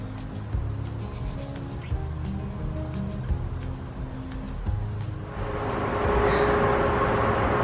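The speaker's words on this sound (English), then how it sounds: "you can hear the cars" Traffic on a nearby road heard during a long trail hike, a steady engine rumble rising into a broad, loud tire rush as vehicles pass, with no talking.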